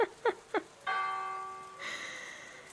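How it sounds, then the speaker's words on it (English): Church bells in the video game Werewolf: The Apocalypse, set in a forest village: a few quick chime strikes, then a sustained resonant bell tone and a second brighter peal, clear and moderately near. "Oh, the church bells."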